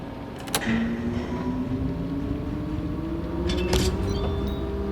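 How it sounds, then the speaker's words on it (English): An STS ship-to-shore crane cab engine starts up in the shipyard video game Docked, a steady mechanical hum rising slowly in pitch as it spools up, with a few faint clicks near the start. "Hold these to start the engine."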